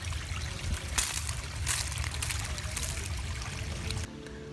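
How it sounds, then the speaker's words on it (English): Coffee grounds pour out into a garden, a steady close trickle and splash lasting several seconds with brief louder bursts before stopping abruptly. "I'm gonna try to pour these out into the garden."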